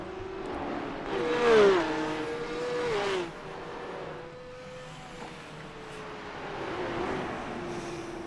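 Race car engines in a racing video game at Lime Rock rise and fall as the cars pass, the revving pitch sweeping through gear changes, moderately loud and with no talk.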